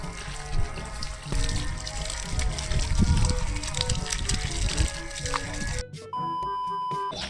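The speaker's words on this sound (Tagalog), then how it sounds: "at naikabit na po nila kuya yung gripo" Water running from a newly installed faucet, a steady gushing flow with splashing and clatter, then a sharp cutoff into quieter background sounds near the end.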